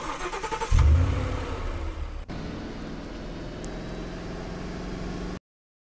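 A car engine in the Roblox game MadRoad cranks and catches with a loud burst, then settles into a steady running drone as the vehicle drives off, with no talking.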